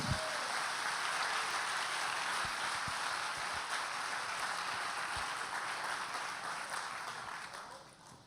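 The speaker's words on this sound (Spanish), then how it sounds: "¿Quién quiere dar un aplauso a la palabra de Dios?" Church congregation applauding the word of God, a broad, even wash of clapping heard from a distance at low level, fading out over the last second.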